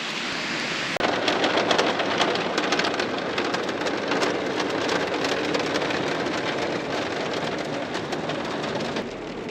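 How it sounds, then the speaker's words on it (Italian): Hail drumming on a van in a dense, continuous hiss of rapid hard impacts, loud and close, with a sudden onset after a quieter first second and no voices. "è tutta grandine"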